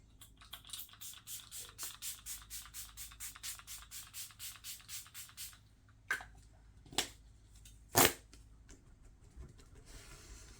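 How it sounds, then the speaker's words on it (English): Milk Makeup Hydro Grip Set and Refresh setting spray misted close by in a rapid series of short hissing pumps, then a few louder separate sprays after a pause, with no talking. "I'm going to be using the Milk Makeup Hydro Grip Set and Refresh Spray."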